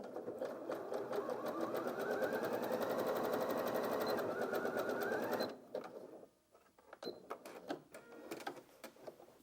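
A Janome DKS100 sewing machine runs a wide, longer zigzag stitch, a rapid steady mechanical chatter for about five seconds before stopping, followed by quieter clicks and handling noises.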